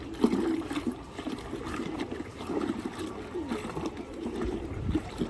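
Water being stirred by hand in a container after a crushed Metrogyl tablet is dropped in, soft sloshing and trickling splashes at close range, fairly quiet with faint background noise.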